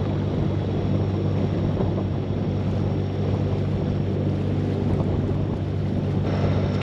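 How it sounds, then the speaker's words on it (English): Steady wind buffets the microphone with a constant low roar and rumble under open skies on the Ribble Link waterway, no voices, unbroken throughout. "It's getting windy."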